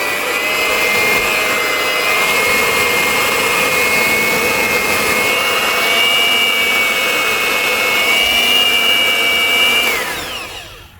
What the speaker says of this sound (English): Now we're going to knead it with the bread kneader.